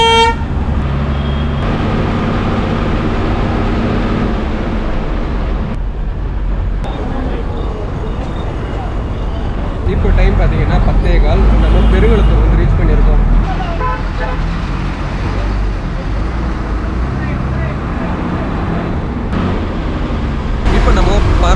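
Steady engine and road rumble from inside a moving bus on the way to Tiruvannamalai, with traffic passing and car horns tooting repeatedly, some muffled voices in the mix.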